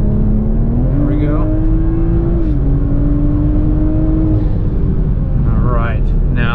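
A turbocharged Toyota GR Supra engine pulls hard during a test drive, its loud close-up tone climbing steadily with a brief dip partway through before rising again under acceleration.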